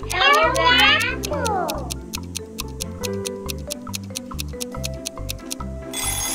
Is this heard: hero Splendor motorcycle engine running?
no